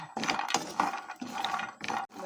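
Raw cocoa beans roast in a dry pan at home, giving off repeated sharp crackles and pops in quick irregular bursts, close and fairly loud.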